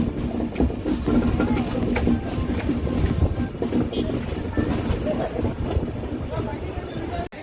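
A passenger train on a scenic route near Visakhapatnam rolls along the rails with a steady rumbling clatter and rhythmic wheel clicks, heard from inside, fairly loud throughout.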